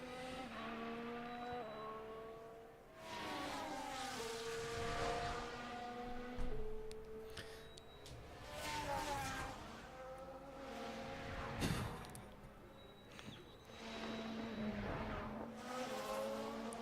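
Damaged F1 car engine with a loud turbo in the F1 Manager 24 racing game at Las Vegas, a continuous rising and falling race-car drone with gear shifts, steady and fairly close throughout.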